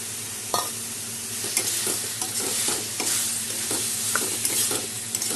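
A spoon stirs pre-fried pointed gourd and shrimp in a hot pan, giving a steady close-up sizzle with repeated scraping and clinking strokes in an irregular rhythm.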